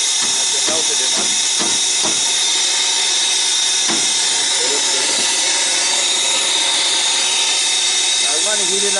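Brazing torch flame roaring steadily while melting old braze off a large compressor during a refrigeration repair, a loud continuous hiss with occasional clicks and knocks underneath.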